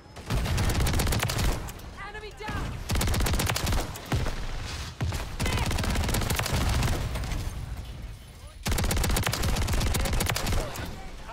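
Heavy gunfire from a Haymaker shotgun in Call of Duty MW3 booms in fast rapid-fire bursts, loud and close, broken by a few short gaps and mixed with other game noise.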